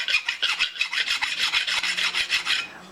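Metal file deburring a part for a steady rest build, about a dozen rhythmic rasping strokes close by, quick and even, with light taps between strokes.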